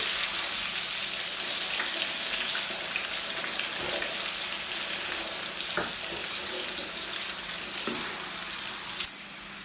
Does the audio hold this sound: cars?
no